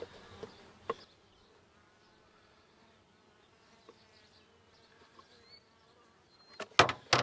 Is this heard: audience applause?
no